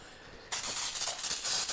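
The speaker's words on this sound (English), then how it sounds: "I like to use the pan baking cooking spray" A steady, close hiss of baking cooking spray onto a pan starts abruptly after a brief quiet moment and continues without a break.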